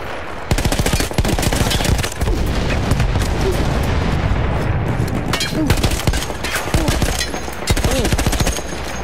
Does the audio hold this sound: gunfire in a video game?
yes